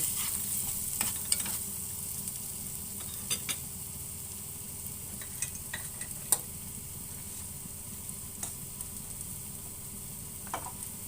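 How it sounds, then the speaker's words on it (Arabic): Cardamom pod stirred through garlic frying in a pan, with a steady soft sizzle broken by scattered light scraping clicks of the utensil. "وهنزل بفص من الحبهان وبرده هقلب."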